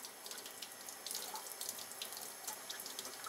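Cold tap water runs into a sink while a hognose snake is rinsed, a quiet, continuous splashing stream with small irregular spatters and drips close by.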